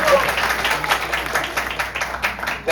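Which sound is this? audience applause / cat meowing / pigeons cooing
audience applause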